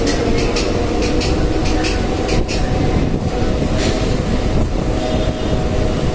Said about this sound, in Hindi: अब यहाँ से ट्रेन निकल गई है